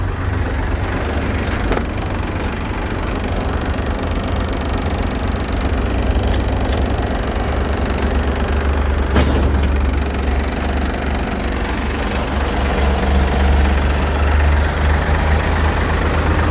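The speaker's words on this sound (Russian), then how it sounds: "Включили вал отбора мощности." An Iseki SIAL23 mini tractor, a 23-horsepower Japanese compact with its power take-off shaft engaged, idles steadily in a low, loud, continuous engine drone, with no voices.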